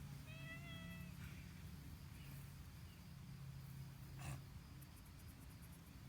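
A cat meows a couple of times, fairly faint, over a steady low background hum with a brief soft knock near the end.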